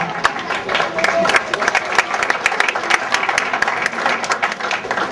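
Crowd at a middle school football game cheering and clapping for the 8th graders, a dense patter of many hands with scattered shouts, steady and fairly close, lasting throughout.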